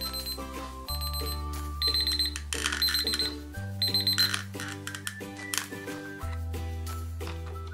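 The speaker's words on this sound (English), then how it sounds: "an alarm will sound to remind you at that time" A pill box reminder alarm sounds in short, bright electronic beeps, repeating in quick clusters over a steady background music bed.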